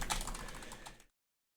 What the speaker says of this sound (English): Typing hard.